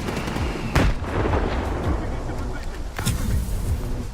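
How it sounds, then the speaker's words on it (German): Grenade blasts in the video game Stalker 2 burst out in two sharp, loud impacts with rumbling gunfire around them, while someone talks over the action. "wieder Granaten"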